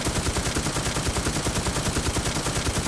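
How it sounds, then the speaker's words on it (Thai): M134 minigun in the game Infestation firing a continuous, very rapid stream of shots, loud and close, a dense unbroken buzzing rattle with no pauses. "แล้วผมยิงโดนทุกนัดเลยนะ"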